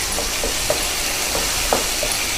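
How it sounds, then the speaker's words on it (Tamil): Onions and about fifteen garlic cloves sizzle steadily as they sauté in a pan, a constant close hiss broken by a few soft clinks of stirring. "நல்லா வதங்கட்டும் வெங்காயம்"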